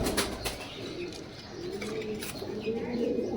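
Pigeons coo softly and repeatedly at a bird seller's stall, with low throaty calls, occasional rustles and flutters, and people talking in the background.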